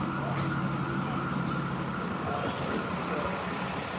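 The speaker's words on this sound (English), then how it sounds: "Wow, it's even got a rumbler siren on that ambulance." Ambulance siren with a low rumbler tone on a loud Midtown Manhattan street in New York City, sounding steadily throughout over dense traffic and city noise.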